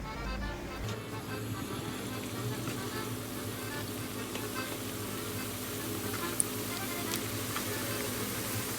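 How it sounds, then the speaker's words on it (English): Pieces of dough frying in hot oil at an Italian festival cooking demonstration, giving a steady, continuous sizzle that stays even and fairly close throughout. "So let's start frying them."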